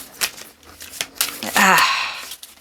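A deck of tarot cards is shuffled with several quick riffling flicks, then a longer, louder burst of riffling. The sound is close and crisp and plays alone.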